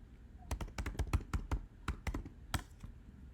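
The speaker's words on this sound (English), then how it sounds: "And type my credentials again." Fingers typing on a computer keyboard, a quick run of close, crisp key taps in an uneven rhythm, quiet and alone with no talk.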